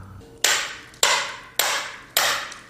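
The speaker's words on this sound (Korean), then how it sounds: "망치질 소리가 끊이지 않고 울리는 명장의 작업장." A stone carver in his workshop drives a chisel into stone with a hammer: four sharp, loud, ringing strikes about half a second apart, each fading quickly, with no voices.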